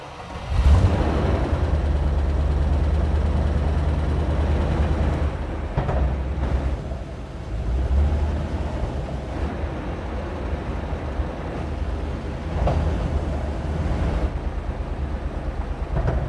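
A 1986 Range Rover engine idles with a loud, steady low rumble while the gearbox turns the wheels through the gears, the tone shifting slightly at a few points and the sound carrying on throughout.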